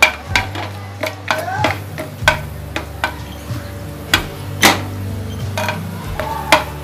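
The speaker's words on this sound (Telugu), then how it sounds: "డ్రై ఫ్రూట్స్ వేసుకొని దోరగా వేయించుకోవాలి" Dry fruits are fried in a spoonful of ghee in a pan, heard as a low background sizzle under repeated sharp clicks and taps of a spoon against the pan, spaced irregularly over several seconds.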